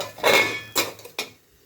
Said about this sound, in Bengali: চলুন ঢাকাটা খুলি।